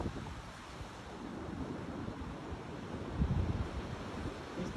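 Low, steady wash of surf with wind rumble across the whole stretch, a faint swell near the end; no voices.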